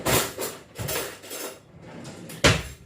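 A metal spoon clinks and knocks against a bowl while a cook prepares a chickpea savoury, several uneven scraping clatters followed by one sharper, louder clink near the end.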